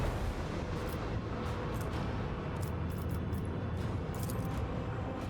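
Macro cannons fire continuously in Warhammer 40,000: Rogue Trader, a dense, steady, rumbling barrage of booming blasts with no pauses.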